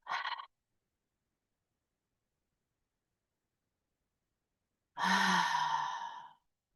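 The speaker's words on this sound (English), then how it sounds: "Full inhalation through the nose. Full exhalation like a sigh or through the nose." Two deep breaths: a short nasal inhale at the start, then after a long silence a full, loud sighing exhale, part of a guided breathing exercise in a community wellness class. No talking.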